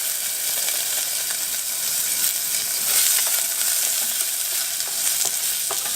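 Vegetables fry in hot oil in a stovetop pan while rice and peas are being cooked, giving a steady, close sizzle with faint crackles and stirring scrapes throughout and no talking.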